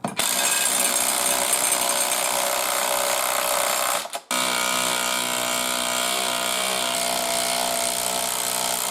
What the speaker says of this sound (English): I'm going to use my impact driver just to make my life a little bit easier.